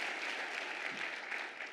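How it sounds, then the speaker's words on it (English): A faint, steady patter of clapping from an audience at a city State of the City address, low in level and lasting under two seconds. "That deserves a clap."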